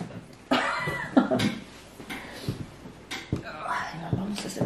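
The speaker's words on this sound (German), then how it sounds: "Wie ein Walross die Nase putzen." Loud nose blowing close by at home, several harsh, honking blasts in quick succession with short pauses between them.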